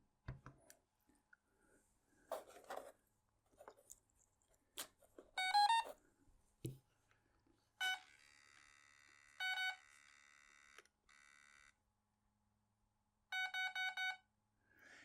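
Electronic speed controller of an RC car, set up with a Detrum Blitz DT9 transmitter, sounding a series of short tonal beeps and quick chirp bursts during throttle calibration, with handling clicks and pauses between them.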